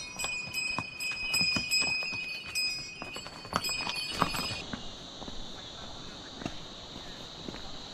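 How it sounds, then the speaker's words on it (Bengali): A mule train passes on a Himalayan trekking path to Madmaheshwar, with jingling bells ringing close by for the first few seconds and scattered hoof clops on the trail, then fading into a steady hum of insects. "এখন খচ্চরের পাল আসছে"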